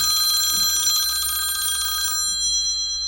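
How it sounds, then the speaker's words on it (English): A mobile phone rings with a bright, trilling bell-like ringtone that sounds close and fairly loud for about two seconds, then cuts off into quiet. "Oh, that's your phone."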